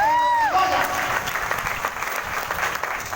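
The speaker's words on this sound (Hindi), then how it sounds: "एक बार जोरदार तालियां हो।" Loud, continuous audience clapping fills a hall at an Ayurveda company's business plan event, steady and dense throughout, with a brief sweeping tonal sound at the very start.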